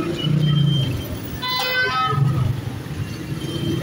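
Busy street traffic during Independence Day celebrations, with a car horn honking and toy trumpets blowing nearby among rumbling vehicles.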